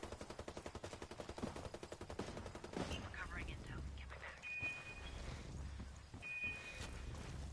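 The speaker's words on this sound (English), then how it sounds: "Shit, taking fire." Rapid automatic gunfire in the shooter video game Ghost Recon Wildlands, a dense rattling stream of shots that then breaks into scattered bursts and rumbling under a player's shouting voice.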